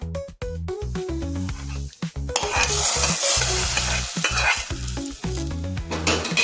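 Coconut pieces and cashews frying in ghee for rice and lentil payasam, a loud, steady close sizzle with the scrape of a stirring spoon, growing denser and hissier partway through.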